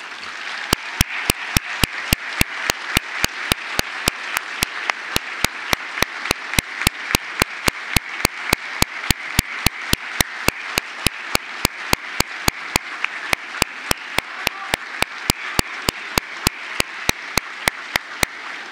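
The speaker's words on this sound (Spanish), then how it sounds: "brindarles un fuerte aplauso a esas personas que estuvieron para ustedes" Graduates at a graduation ceremony give strong, sustained applause, a dense wash of clapping that lasts nearly twenty seconds, overlaid with sharp regular clicks.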